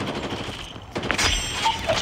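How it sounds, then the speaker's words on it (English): Gunfire in a battle royale video game: a short rapid burst of shots, moderately close, amid ambient game noise and brief whistling effects. "Oh, you're shooting at me."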